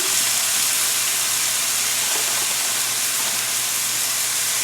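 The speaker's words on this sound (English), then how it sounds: "I'm going to go ahead and add my hamburger patties that I made" Hamburger patties sizzle in melted butter in a hot pan for a diner-style patty melt, making a steady, loud hiss of frying with no break and no one talking.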